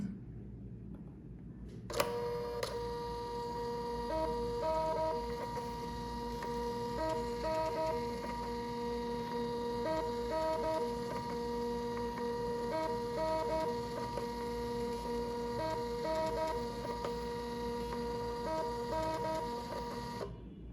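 An HL2200B label printer prints a batch of labels in bulk, with a steady mechanical whir and a clicking feed cycle that repeats at regular intervals, close and continuous.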